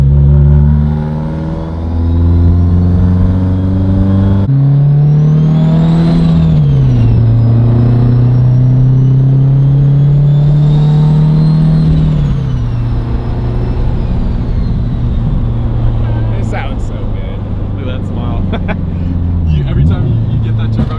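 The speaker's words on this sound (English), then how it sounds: "But the turbo sounds so good." A turbocharged 1100hp Subaru engine revs loud and close, its drone climbing and holding through long pulls and then dropping off. A backfiring crackle comes near the end, with a voice speaking over parts of it.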